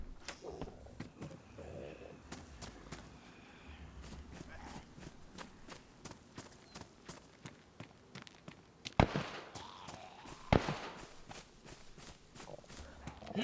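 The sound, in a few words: gunshots in video game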